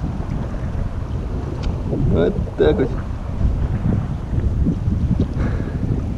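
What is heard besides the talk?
wind and waves around a boat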